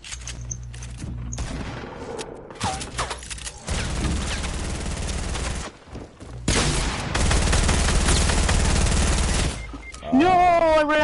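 Rapid bursts of SCAR assault rifle fire in the video game Fortnite come in dense sustained volleys, loud and close, broken by short gaps, with a rising electronic tone near the end.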